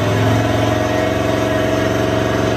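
Chevrolet Camaro engine idling nearby outdoors, a loud steady low rumbling throb with an even pulsing rhythm throughout, alone without talk.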